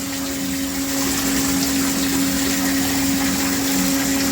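A Mastercraft 1/2 hp submersible water pump running in a bathroom, giving a steady, loud rushing hum of pumped water with a constant tonal whine, unbroken throughout.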